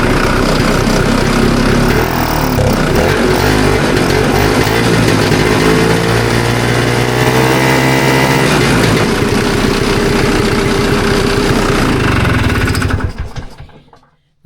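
A vintage Ski Daddler snowmobile engine runs loudly and steadily at idle with a rough, buzzing two-stroke rattle, the pitch shifting slightly midway before the engine cuts out near the end.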